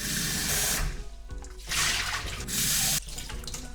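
Water gushes from a tap into a pot of rice grains being rinsed, in loud bursts, stopping briefly and restarting twice, close by with no voices.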